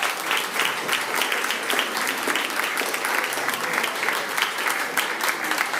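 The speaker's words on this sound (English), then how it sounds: "Round of applause, everyone." Audience at a quiz challenge grand final breaking into steady, sustained applause, an even crackle of many hands clapping at moderate volume throughout with no break.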